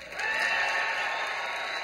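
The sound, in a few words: audience applause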